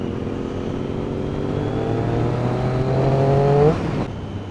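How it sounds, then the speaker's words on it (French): A motorcycle engine drones steadily and close, its pitch rising as the bike is ridden through a bend, swelling toward the end before easing off. "Allez, jette bien la moto dans le virage là."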